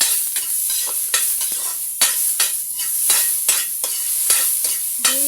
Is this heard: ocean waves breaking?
no